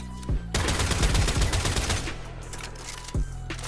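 Latron Prime rifle firing in Warframe, a rapid burst of loud, close shots with a few isolated reports before and after.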